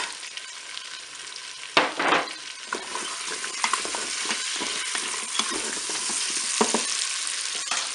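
Carrots sizzling in a Cookeo multicooker, a steady bright frying hiss with intermittent scraping stirs and a couple of louder clatters, close and continuous with no voices.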